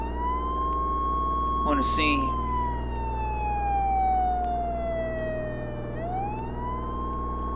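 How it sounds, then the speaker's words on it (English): An ambulance siren sweeps past on a street, its steady tone gliding downward as it moves away and then rising again, loud throughout, with someone talking over it. "Look how the ambulance just went past me, bro."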